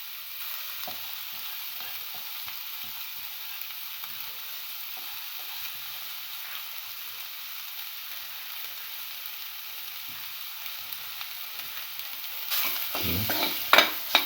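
Egg with black pepper being stir-fried in a pan, a steady soft sizzle with faint scraping stirs throughout, growing louder with clattering utensil knocks near the end.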